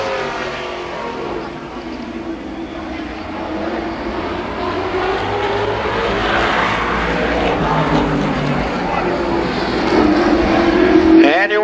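Stock cars race around the oval at Columbus Motor Speedway in 1993, engines roaring loud and steady as the pack passes, with a rising whine near the end.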